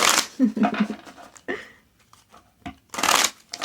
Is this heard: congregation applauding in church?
no